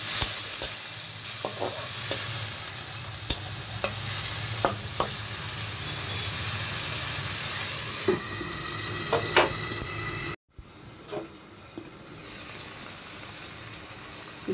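Spice paste cooking down in a pan with a splash of water gives a constant close sizzle, with light stirring taps scattered through it and a short break near the end, no voices.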